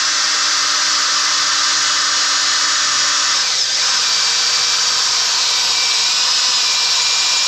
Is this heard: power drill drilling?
yes